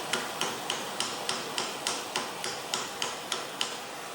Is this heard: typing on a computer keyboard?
no